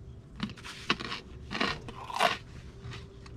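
Breakfast food being bitten and chewed, with several sharp crunches in an uneven rhythm, close and fairly quiet, and no talking.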